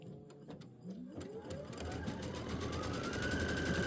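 A Kimberbell embroidery machine stitches a trim placement line, a steady mechanical whir with a rising tone that builds and holds, loud and close, with no talk over it.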